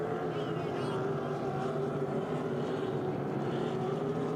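Hydro350 hydroplane racing boats roar through a turn at a St-Félicien race final, a steady, fairly distant engine drone with a slowly shifting pitch.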